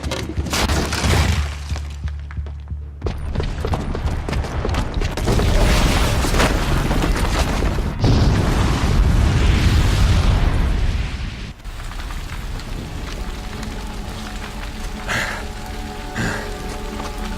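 A booby-trapped bomb detonates in Horizon Zero Dawn, a loud, rumbling explosion with a long crashing, debris-like roar that fills the clip and then settles into a steady crackling wash.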